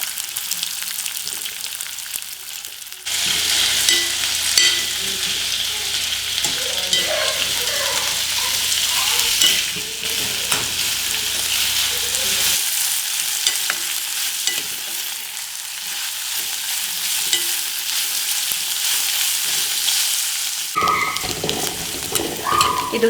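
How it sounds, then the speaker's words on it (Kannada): Sliced onions dropped into hot oil for country-chicken biryani, a sudden burst of sizzling that continues as a loud, crackling fry with spoon scrapes, then drops away briefly near the end. "ಈಗ ಕಾದಿರೋ ಎಣ್ಣೆಗೆ ಈರುಳ್ಳಿನ ಹಾಕೊಳ್ಳೋಣ."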